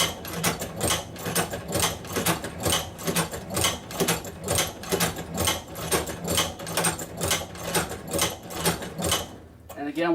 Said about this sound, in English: And then again, we'll continue sewing.